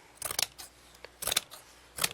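Scissors snip through lace cut from old clothing, giving three short clusters of crisp, close cutting sounds in an otherwise quiet room.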